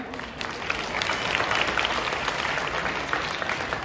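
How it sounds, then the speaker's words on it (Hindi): Steady applause from a crowd, a dense wash of clapping that holds for a few seconds without letting up. "जोरदार तालियां"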